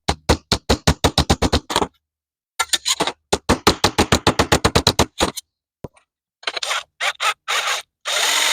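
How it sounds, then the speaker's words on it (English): Rapid bursts of sharp metallic tapping from a little hammer in a workshop, after a drilled hole is deburred. The blows come in quick rhythmic runs with short pauses, close and fairly loud, with no talk over them. "I have to get a little hammer here."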